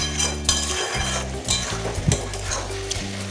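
Cabbage being sautéed with spices in a pan, a constant loud sizzle punctuated by quick scrapes and light metallic clinks of the spatula against the pan.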